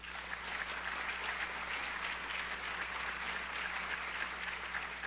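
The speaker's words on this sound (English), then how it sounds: "Let's give them a round of applause." Steady, moderately loud applause from an audience fills a school honor society induction ceremony, with continuous clapping and no speech.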